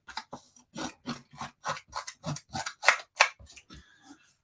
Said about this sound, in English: So I'm gonna use my snips to just rough the edge of this paper.